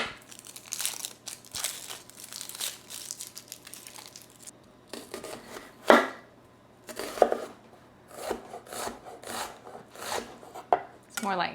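Knife chopping a red onion on a cutting board, with irregular bursts of close, crisp cuts separated by short pauses and a steady low hum beneath.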